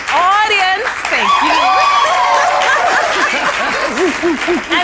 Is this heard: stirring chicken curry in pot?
no